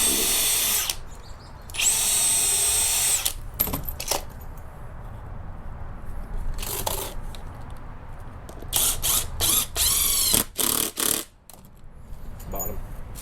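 A power drill drives screws into a removable wooden wheelchair ramp set against brick, sounding in several loud bursts of whirring with short pauses between, plus some clinking and handling noise.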